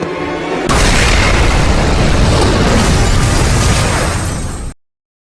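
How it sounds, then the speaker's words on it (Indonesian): A loud, sudden blast that erupts into a long, roaring rumble, sustained for several seconds before cutting off abruptly. "Sesudah terjadinya ledakan bom,"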